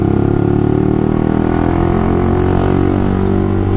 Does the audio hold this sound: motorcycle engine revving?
yes